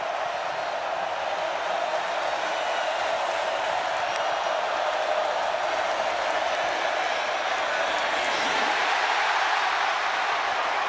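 A college football stadium crowd at night during an SEC game between Texas A&M and Arkansas, a dense, loud, unbroken roar of many voices that swells slightly near the end.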